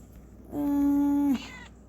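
A cat lets out a single clear, drawn-out meow close by, lasting under a second against a quiet room.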